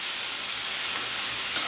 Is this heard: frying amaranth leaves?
yes